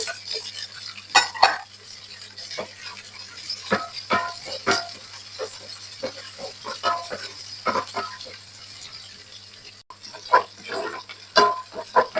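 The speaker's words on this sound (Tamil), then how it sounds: "இப்போ வெள்ளப்பூடும் வெங்காயமும் நல்லா வதங்கட்டும்" Onion and garlic being sautéed in a pan for a Koduva fish curry, with intermittent spoon scrapes and clinks against the pan over a low, steady background sizzle, close and moderately loud.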